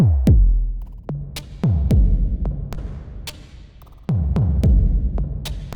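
A deep, thumping percussive loop passes through a church-recorded convolution reverb. Each heavy hit is followed by a lingering, roomy tail, and the pattern repeats loudly and rhythmically with nothing else over it.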